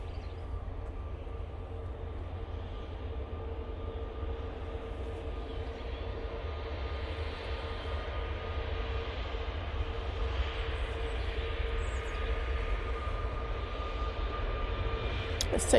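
A Virgin Atlantic airliner arriving from New York JFK at Manchester Airport gives a steady, moderately loud engine roar with a low rumble and faint tonal whine, building slightly toward the end.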